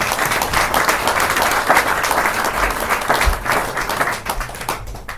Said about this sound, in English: maybe give them a massive applause as well.